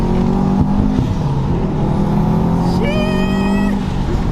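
Subaru WRX STI on a winding mountain touge road, engine droning steadily, then revving higher through a downshift and pulling hard under acceleration, heard close from inside the car for the whole stretch.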